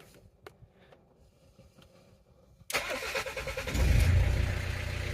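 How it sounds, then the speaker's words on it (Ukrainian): A BMW 320d E46 diesel engine cranks and catches after a quiet stretch, then settles into a loud, steady rumble that swells briefly before holding at idle. "Завели автомобіль"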